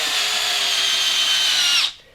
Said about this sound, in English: hole out using your cordless drill, and you want to get it pretty deep